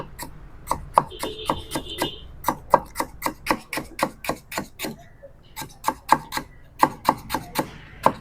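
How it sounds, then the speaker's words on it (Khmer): Fast, close knife chops through lemongrass on a board, for a spicy stir-fry of ant eggs with free-range chicken, come as quick regular strikes with a brief pause midway before the rapid chopping resumes. "ពេលហាន់អញ្ចឹងលឿន"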